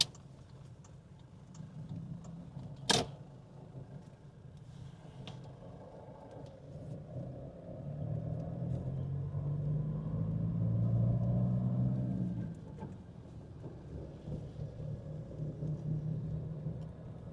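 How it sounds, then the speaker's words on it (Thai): Road traffic in Vientiane on a busy weekday: a low, steady rumble of passing cars rises as a vehicle goes by near the middle, with a sharp click early on and a faint background hum. "มื้อนี้รถก็ค่อนข้างหลายหน่อยหนึ่งเพราะเป็นวันจันทร์"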